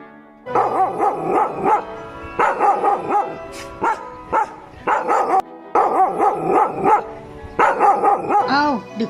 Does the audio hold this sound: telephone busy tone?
no